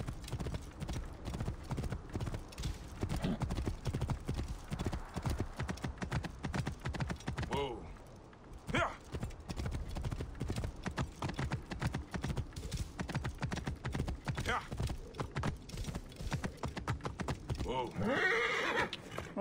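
A horse in Assassin's Creed Origins gallops with rapid, rhythmic hoofbeats and lets out a whinny, while a player talks over the clatter throughout.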